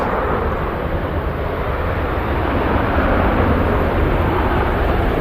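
A KLM airliner taxis at Manchester Airport, giving off a broad, steady engine rumble that stays loud and constant without any speech.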